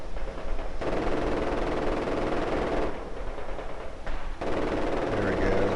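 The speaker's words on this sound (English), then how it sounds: "so our machine gun screen is attacking" Sustained machine gun fire and bursts of gunfire from a Company of Heroes 2 World War II battle, dense and continuous with brief lulls, with faint talk in places.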